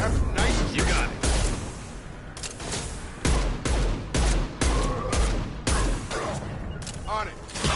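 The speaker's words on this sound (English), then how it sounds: "Snipe that one! Firing a high-impact shot." Sniper rifle fire in Mass Effect erupts as repeated loud, booming shots in quick succession, layered over busy combat noise and clipped voice barks from squadmates.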